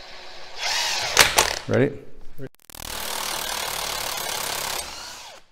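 A power tool hammers at a bearing being pulled from a GM 14 bolt axle during a re-gear, a loud close burst that stops briefly and then runs steady. A voice speaks a single word before it starts.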